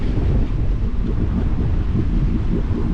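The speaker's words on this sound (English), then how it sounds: "it's pretty crazy how much wind the front can bring in with it" Strong wind roars steadily at sea aboard a solo sailing boat in the Bahamas as a front moves through, with broadband gusting buffeting across the whole stretch and waves washing underneath, no voices.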